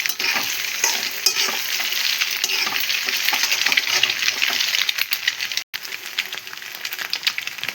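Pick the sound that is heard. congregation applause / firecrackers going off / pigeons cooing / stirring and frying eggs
stirring and frying eggs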